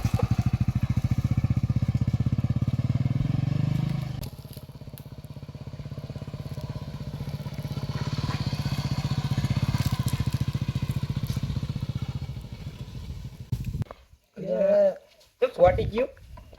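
A motorcycle engine idles with a loud, rough throbbing for about twelve seconds, then cuts out as a couple of short voices follow.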